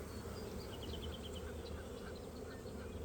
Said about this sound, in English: a lot of bees in this hive